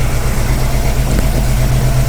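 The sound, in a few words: restored car engine running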